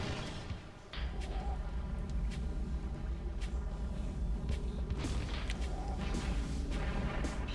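Missile shots in Metroid Prime, fired at destructible blocks to lower a tower, land as repeated booming thuds over a constant low game rumble, spaced a second or two apart.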